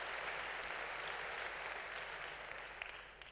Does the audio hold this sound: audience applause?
yes